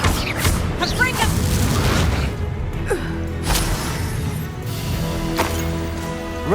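Fiery Confringo spell blasts in Hogwarts Legacy, a sharp boom at the start followed by further crackling impacts and bursts amid continuous game combat noise and music, loud and dense throughout.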